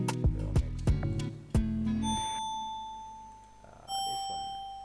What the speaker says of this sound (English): Got some good bells.